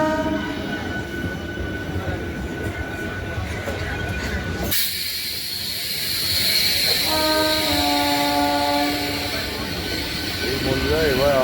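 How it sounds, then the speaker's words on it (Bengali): A Howrah–Bandel local train pulls out on a cold winter night, a rumbling rail clatter that shifts midway into louder running noise with drawn-out wheel squeal or horn-like tones, while voices murmur in the background. "হাওড়া ব্যান্ডেল লোকাল বেরিয়ে যাচ্ছে"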